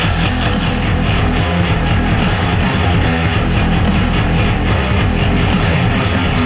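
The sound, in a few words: metalcore track with layered drums played on laptop speaker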